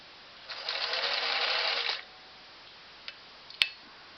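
A Singer Model 457 Stylist sewing machine runs a long zigzag stitch in one steady burst of about one and a half seconds, then falls quiet apart from a few small clicks and a sharp tap near the end.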